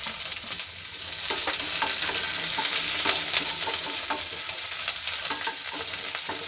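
Shallots, garlic, ginger and curry leaves fry in hot oil for a Kerala dal curry, a steady close sizzle with scattered crackles and spatters, and stirring clicks throughout.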